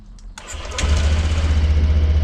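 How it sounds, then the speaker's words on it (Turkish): A rebuilt Honda PCX scooter engine cranks briefly, catches and settles into a steady idle with a throbbing pulse, close by and alone. "Makina 10 numara çalıştı arkadaşlar."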